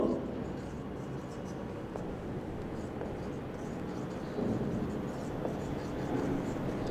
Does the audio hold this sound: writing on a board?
yes